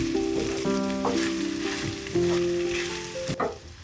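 Meat and pepper sizzle steadily in a hot frying pan while being stirred together, a close, continuous crackle with a few soft scraping strokes and no talking.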